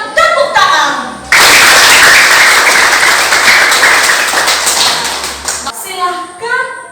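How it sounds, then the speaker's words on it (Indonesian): A class of students applauds a performance, a loud burst of dense clapping lasting several seconds before fading, with voices heard just before and after. "maka Ibu berikan tepuk tangan"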